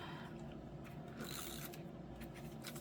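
A glue tape dispenser rolling adhesive onto a handmade Christmas card, a close, quiet ratcheting click and whir of the mechanism with no talking.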